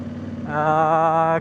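A CFMOTO 800NK motorcycle, recently fitted with a new tensioner after a noisy fault, starts up and settles into a steady, close idle with a buzzing, even hum.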